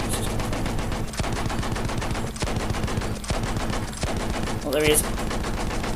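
A machine gun in the Battlefield 1 beta fires in close, repeated rattling bursts with brief gaps between them, and a player's voice speaks briefly near the end.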